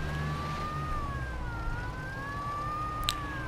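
Police car siren in the video game Mafia 2, a steady wailing tone rising and falling slowly over low engine and street rumble, loud and continuous with no talking.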